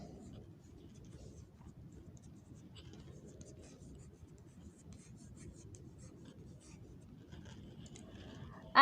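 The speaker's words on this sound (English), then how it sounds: "So let me write here." A teacher writes on a classroom board during a school science lesson, producing faint, intermittent scratchy strokes beneath low, steady background murmur.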